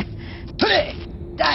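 A single sharp sneeze bursts out mid-stretch, close and abrupt, surrounded by brief spoken words and breathy vocal sounds.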